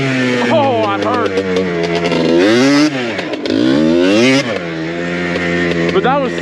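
A Yamaha Blaster ATV that is running roughly revs up and down in second gear, its loud buzzing engine note climbing and dropping in repeated sweeps close by.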